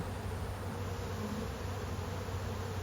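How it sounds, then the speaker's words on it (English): A dense, continuous buzz of honey bees swarms close by, robbing honey from a dead hive in an opened canoe, steady and unbroken throughout with no voices. "all the hungry bees in the area are robbing out all of the honey"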